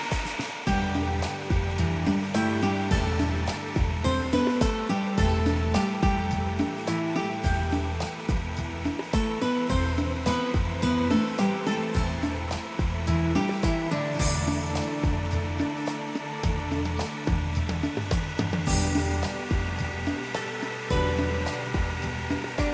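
A Super Asia electric chopper minces beef for Irani kababs, its motor giving a loud, steady whirring drone with rapid pulsing chops, sustained close-up for over twenty seconds.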